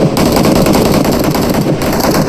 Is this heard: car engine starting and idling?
no